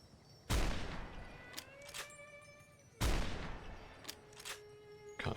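Gunfire in the video game Fallout New Vegas, with two loud, separate shots a few seconds apart, each one followed by fainter metallic clicks and echoing tails.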